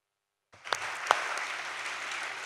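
Applause at an outdoor anniversary celebration of the 46th Air Brigade in Pisa breaks out suddenly and holds as a steady, moderately distant wash of clapping, with no voices heard.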